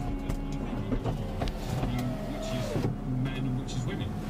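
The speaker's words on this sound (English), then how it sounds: "Locking into place, windows going up." A 2009 Mercedes SLK 300 automatic convertible finishes closing its roof and raises its power windows, giving a steady electric motor whine with mechanical clunks and a rising glide as the roof locks, nearby and moderately loud; a voice talks over it.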